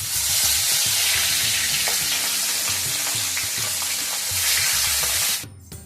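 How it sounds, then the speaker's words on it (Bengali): Small fresh tangra fish fry in a pan with a loud, continuous hissing sizzle and occasional stirring, stopping abruptly at the end. "তো এখন আমি মাছগুলোকে ভাজছি।"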